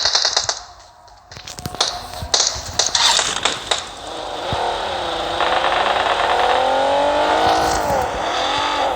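A vehicle engine in PUBG Mobile drives steadily, its hum rising and wavering for several seconds after a burst of clattering game noise.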